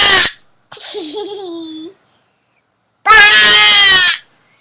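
A child imitates a sheep bleating in two voiced, wavering bursts, the second louder and brighter, separated by a short silence, with a brief breathy noise at the start.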